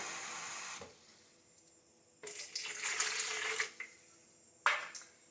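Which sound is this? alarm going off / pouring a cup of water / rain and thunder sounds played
pouring a cup of water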